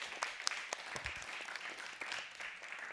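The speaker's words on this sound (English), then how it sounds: "A round of applause for Rebecca" Conference audience applauding after a talk on water, equity and climate, a steady patter of many hands clapping at moderate distance, fairly soft throughout.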